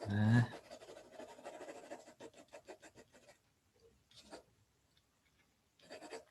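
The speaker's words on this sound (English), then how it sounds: "all the scratching of the pencil you can hear" Pencil scratching on paper while sketching a face, soft quick rhythmic strokes that start loud and then trail into faint intermittent scrapes, with a voice briefly present.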